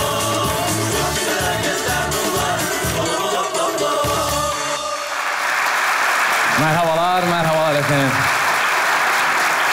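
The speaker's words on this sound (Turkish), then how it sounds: "Devam ediyor alkışlarınızla." Studio audience applause at a Turkish comedy sketch show swells into dense, steady clapping after a stretch of music, with a voice calling out over it near the end.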